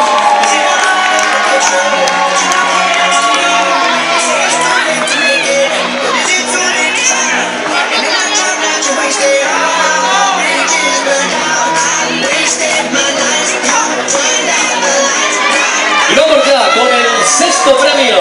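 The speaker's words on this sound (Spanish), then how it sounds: "Fuerte aplauso para ellos." A large carnival parade crowd claps and cheers loudly and continuously, with whoops and shouts rising over a dense babble of voices.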